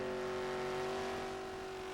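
A four-wheel-drive pulling truck with a pro stock drag racer's engine eases off the line at a truck pull, a steady droning engine tone with a slight rise, heard at a moderate distance without voices.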